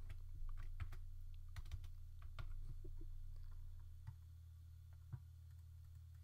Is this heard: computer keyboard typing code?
yes